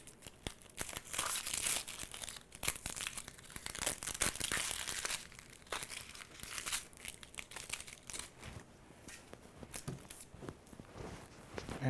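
Papery outer skins of a halved onion peeled back by hand, a close, quiet stretch of dry crinkling and crackling in uneven bursts with no voices.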